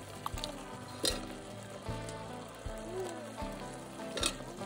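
Shira (small fish) and potatoes fry together in a pan in a Konkan village kitchen, giving a steady close sizzle with soft periodic thuds and scrapes as the food is stirred.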